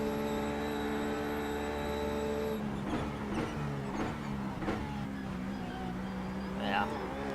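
Race car engines in iRacing: a sustained, tonal engine whine that cuts off partway, followed by rougher engine sound and passing cars alongside, moderately loud throughout.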